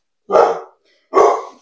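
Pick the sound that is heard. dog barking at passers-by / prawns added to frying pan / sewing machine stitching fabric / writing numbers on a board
dog barking at passers-by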